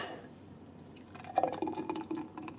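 A smoothie pours from an Oster Pulverizing Power Blender pitcher, model 2131733, a soft wet glugging and dripping that starts after a quiet moment and continues faintly, close by.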